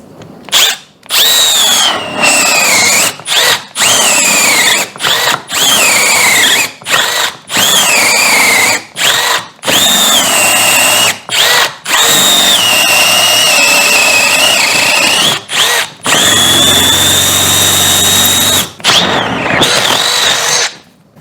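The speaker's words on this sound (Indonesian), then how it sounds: "Apakah bor imut ini bisa mengatasi 28 mm?" A Milwaukee M12 Fuel cordless drill with a 28 mm spade bit bores loudly and repeatedly, its whine rising and falling in many short bursts broken by brief pauses, ending in one longer run.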